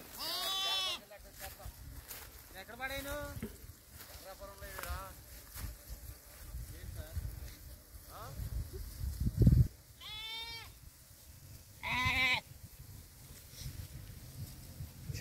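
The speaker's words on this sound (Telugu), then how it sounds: "ఎండలు తట్టుకోలేక ఒకటే అరుపులు మేకలు గొర్రెలు." Goats and sheep in hot, dry farmland bleat repeatedly in separate wavering calls, some near and loud, others fainter, spaced over low outdoor background noise.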